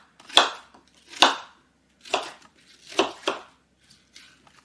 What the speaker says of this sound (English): chop them into smaller pieces